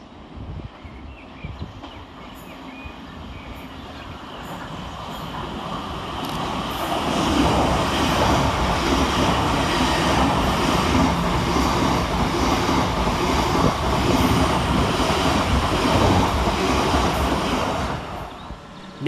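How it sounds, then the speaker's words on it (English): A Govia Thameslink Class 700 electric train passes through Preston Park station, building from a distant hum to a loud, sustained rushing roar with rhythmic wheel clatter, then easing off. "Passing next through the station for Govia Thameslink is 700 153, working 9 Sierra 48 from Brighton to Cambridge"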